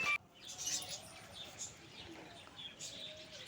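Birds at a small zoo in Tirupati, faint chirps and soft cooing from pigeons or doves in a busy, low-level ambience, with occasional light wing flutters.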